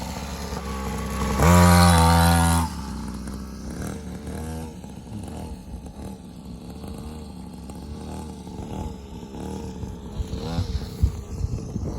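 A motocross motorcycle revs hard in a short loud burst, then idles on with a rough engine drone while people talk nearby.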